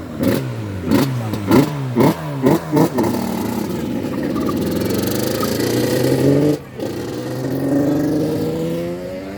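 Motorcycle engines at a motorcycle rally in Guimarães, Portugal: a rider blips the throttle in six or seven sharp rising revs, then holds a long roaring rev that dips briefly and swells again, loud and close.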